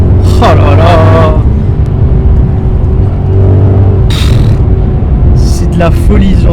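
A Maserati GranTurismo S with its naturally aspirated engine pulls away hard from a standing start, a loud, steady rumbling drone that swells under ongoing talk.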